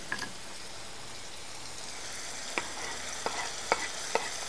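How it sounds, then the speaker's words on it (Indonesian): Lemongrass and galangal being sautéed in a pan: a soft, steady sizzle with a few sharp scrapes and taps of a utensil stirring against the pan, close by, with no talking. "Sereh, lengkuas, tumis sebentar sampai dia wangi."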